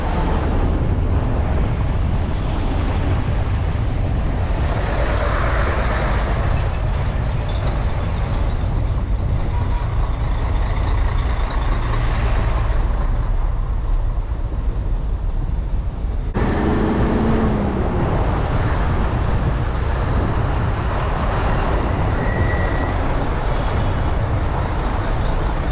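Heavy roadway traffic in Afghanistan near a livestock market, with a constant low rumble of trucks and cars idling and crawling in a jam, steady and loud throughout with occasional engine swells.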